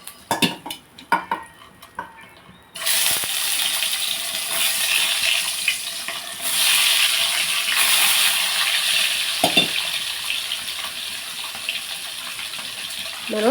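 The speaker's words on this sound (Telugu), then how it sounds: "ఇప్పుడు మనం గుడ్లు వేపేసుకుందామండి" Eggs frying in hot oil in a pan, with a few clinks of utensils at first, then a loud, steady crackling sizzle that runs continuously close up, with brief stirring and scraping sounds.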